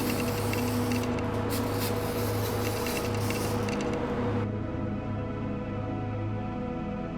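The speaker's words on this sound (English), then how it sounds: "Spray the oil on the dry filter uniformly on all the spines" A steady hiss of oil spraying onto a dry K&N air filter from a Kawasaki Z125 Pro motorcycle runs for several seconds, close and continuous, with a faint mechanical hum beneath and the hiss thinning toward the end.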